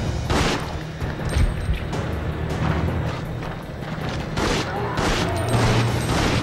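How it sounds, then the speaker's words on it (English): Handgun shots and game action in Resident Evil Outbreak File #2, a dense run of loud booming and cracking blasts over continuous rumbling noise, with repeated sharp impacts. "We're going to have to start the handgun here."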